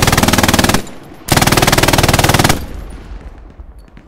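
Gunfire in the Hell Let Loose World War II game during a Stalingrad defense: two loud, rapid machine-gun bursts with a short gap between them, then fading echoes and scattered distant shots.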